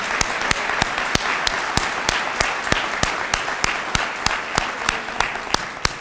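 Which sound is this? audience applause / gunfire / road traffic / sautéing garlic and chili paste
audience applause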